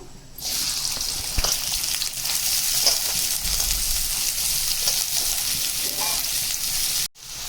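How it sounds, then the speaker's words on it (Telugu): Onions fry in a little oil with a steady, close, continuous sizzle that holds for several seconds, then briefly cuts off near the end. "కొద్దిగా ఆయిల్ అయితే వేసుకున్నానండి. దీంట్లోని ఆనియన్స్ వేసుకుందాము."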